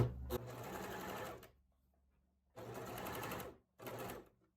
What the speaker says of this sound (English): and then you're going to just lightly stretch it as you sew it on